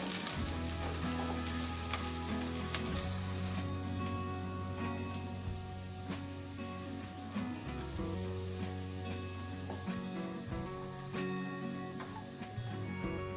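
Sliced onions fry in a pan until crisp, a dense, continuous sizzle heard up close over a steady humming tonal background with brief scrapes.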